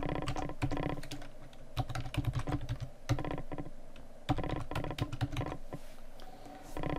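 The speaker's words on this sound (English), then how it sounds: "So let me type the name here." Close, crisp keystrokes on a computer keyboard come in quick bursts separated by short pauses, clattering alone without speech.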